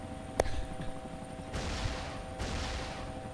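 Gunfire in the military video game ArmA 2, a few sharp distant shots and bursts rising over a faint background hum.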